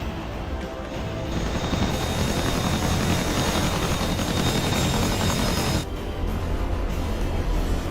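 Steady, loud rotor and engine roar of a Chinook helicopter, likely in a video game, holding constant for several seconds before a brief dip in the upper range and then resuming, with no talking.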